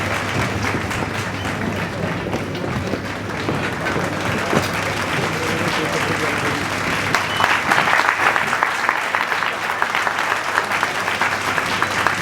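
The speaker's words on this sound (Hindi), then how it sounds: "एक बार जोरदार तालियां" An audience at Tula's Institute bursts into loud, sustained applause welcoming actor Varun Badola, dense clapping that swells slightly toward the end with a few sharper claps standing out.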